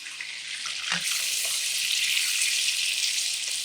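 Whole garlic cloves frying in plenty of oil give a steady bright sizzling hiss that swells after a soft clunk near the start and holds close and even to the end.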